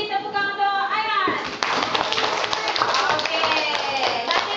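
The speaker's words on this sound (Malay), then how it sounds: "bagi tepukan untuk Aiman." Classroom pupils clap together after a teacher's prompt, a brisk burst of applause following a spoken phrase, with voices mixed in.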